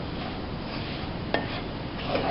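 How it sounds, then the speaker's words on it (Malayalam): A cooked fish mixture being stirred in a pan with the flame off, soft scraping and rubbing of a utensil with a single sharp clink midway, quiet and close with no talk. "മീൻ വെന്തതിലേക്കിട്ട് നന്നായി ഇളക്കി യോജിപ്പിച്ചെടുക്കുക."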